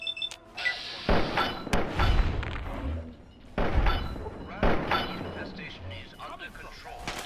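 Gunfire in the video game Fallout 3 sounds as several loud, sharp booming shots spaced a second or so apart, with a player's voice talking around them.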